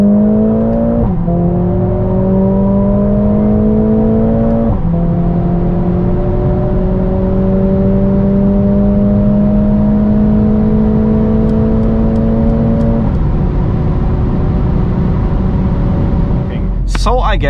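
Mercedes-AMG A45 S pulling hard from 100 to 200 km/h: a loud, continuous engine note climbs steadily through several gears, with brief dips at each upshift, under constant road and wind roar.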